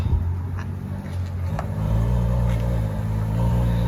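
A deep, throaty Ferrari F12 V12 engine rumbles steadily, growing louder and fuller partway through, with low harmonic drone and faint background noise.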